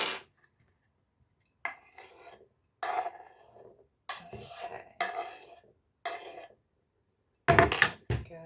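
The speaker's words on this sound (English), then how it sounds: "Give that a bit of a stir." Chopped chilies cooking in a pan, stirred in several short bursts of scraping and rattling, separated by silent gaps, with a louder clattering flurry near the end.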